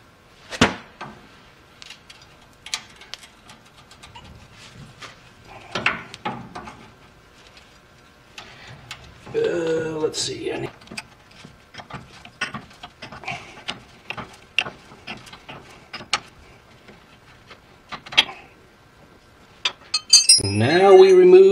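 Wrench working the front clamp bolt loose on a 1939–1948 Chevrolet lever-type shock absorber, with scattered metallic clinks and ratcheting clicks, close by, broken by a few louder knocks and scraping.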